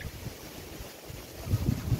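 Low, blustery wind rumbling against the microphone, gusting louder toward the end, with no talking.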